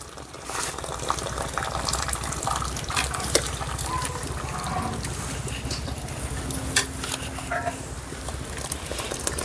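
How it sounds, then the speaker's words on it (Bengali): Starchy water draining from a big pot of boiled rice through a perforated lid into another pot, a continuous gushing, splashing pour with gurgles, fairly close. "এই ডেকচিটাতে ভাতটা ছেঁকে নেবো, ফ্যানটা গেলে নেবো।"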